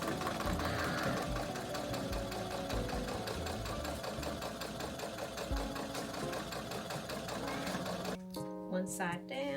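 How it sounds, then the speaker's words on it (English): A Brother SE600 sewing machine stitches steadily around the perimeter of a fabric wristlet keychain, a rapid continuous mechanical whirr heard up close, stopping shortly before the end. "sew around the perimeter of all four corners. So that's what we're about to do. My lovely brother SE600."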